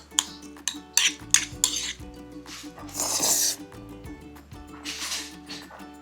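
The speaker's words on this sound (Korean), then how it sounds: "계란을 넣고 이렇게 비벼" A spoon scrapes and clinks against a bowl up close as rice is mixed with a fried egg, spicy pork and soybean paste stew, in short rhythmic strokes with small pauses between.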